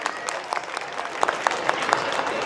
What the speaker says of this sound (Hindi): जोरदार ताली बजाकर सुंदर नगरी के क्षेत्र के लोग उनका जोरदार स्वागत करें